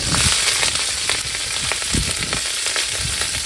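Onions sizzle and crackle in hot oil with mustard seeds and curry leaves, a loud, close, continuous frying hiss with occasional stirring clicks.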